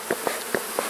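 Bees buzz densely inside a crowded, jam-packed hive, a continuous close hum with a few short louder pulses.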